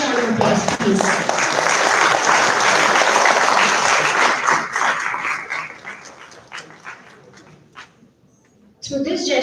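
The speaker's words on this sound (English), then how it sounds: "Can we have a huge round of applause," Conference audience at an HR conclave in Bhubaneswar breaks into a loud round of applause, dense clapping that tapers off into scattered claps before a voice resumes.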